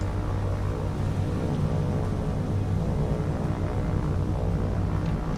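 High-altitude bomber aircraft in the naval combat game War on the Sea give a continuous, low, droning propeller-engine rumble that stays steady and loud throughout, with no talking.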